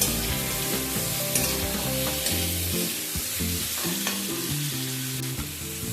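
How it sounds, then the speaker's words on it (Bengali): Prawns lightly frying in a pan, a dense continuous sizzle with clattering stirring and scraping throughout, close and fairly loud, no voices. "তিরিশ থেকে 40 সেকেন্ড সময় নিয়ে চিংড়িগুলোকে হালকা করে ভেজে নেব"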